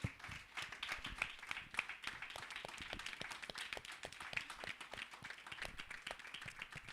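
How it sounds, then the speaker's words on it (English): Steady, fairly faint applause from an audience at the Ake Festival 2023 reception, a continuous patter of many hands clapping with a few sharper claps standing out. "You have clapped very dutifully, my people."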